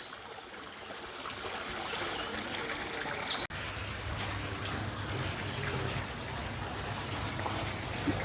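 Water rushes strongly at Janda Baik, Malaysia, a steady broadband roar of flowing stream heard close and continuous, briefly interrupted by a handling click near the middle.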